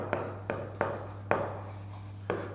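Chalk or marker strokes on a classroom board during a maths lesson, five distinct taps and scrapes spaced irregularly, close and clear over a steady low hum, no talking.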